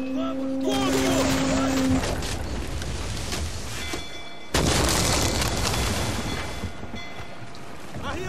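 Ship cannon fire in the naval combat of Assassin's Creed 4 Black Flag, a heavy boom striking midway through a dense, rumbling battle din, with in-game voices shouting around it.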